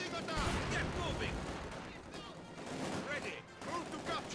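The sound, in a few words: machine gun and rifle fire in the video game Company of Heroes 2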